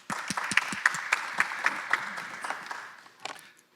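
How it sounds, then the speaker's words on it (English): Audience applause at a symposium on public services in Lao PDR, a steady wash of many hands clapping with sharp individual claps standing out, fairly close and loud, tapering off near the end. "with a big round of applause"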